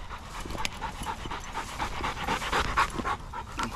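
A hot bird dog pants rapidly and steadily during a preserve quail hunt in Georgia, quick rhythmic breaths close to the microphone with faint outdoor background.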